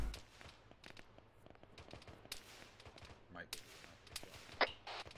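Gunfire in the military video game Arma 3, a scattered run of sharp cracks and pops, some near and loud, others distant, spread over a quiet low background.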